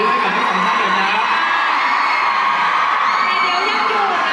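A crowd at a charity event cheers and whoops loudly and continuously, with shrill high-pitched shouting over a dense roar that stays close and full throughout.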